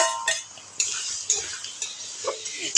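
A utensil scrapes and clinks repeatedly against a pan as egg is stirred and fried for chowmein, sharp close taps over a faint sizzle, with no talking.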